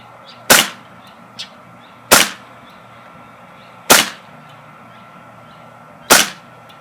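Four sharp, loud gas blowback shots from a KWA Kriss Vector airsoft gun, evenly spaced about two seconds apart, each a crisp crack with a short decay, plus a faint small click between the first two, no talk.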